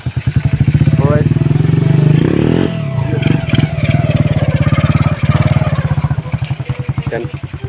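A Raptor motorcycle engine runs close by with a throbbing idle and a sharp rev partway through, then keeps chugging unevenly, with people talking over it.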